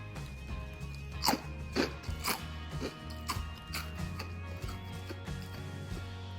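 Crisp, irregular crunching of dry keto cheese crisps chewed close by, a series of sharp bites and cracks with no talking.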